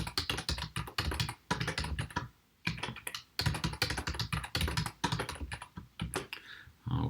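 Rapid keystrokes on a computer keyboard as a password is entered, close and steady in bursts with brief pauses, no voices.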